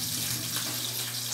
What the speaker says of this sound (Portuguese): vou lavar minha mão